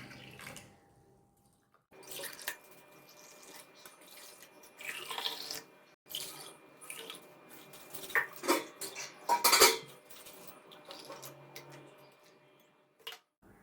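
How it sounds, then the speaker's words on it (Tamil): Water is poured into a watermelon nannari sarbath amid kitchen clatter, with irregular trickles, clinks of glass and utensils, and a few sharp taps. It is faint, close and uneven, with brief quiet gaps and no voices. "இப்போ தேவையான அளவு தண்ணி இதில் சேர்த்துக்கலாம் எல்லாத்துலேயும்"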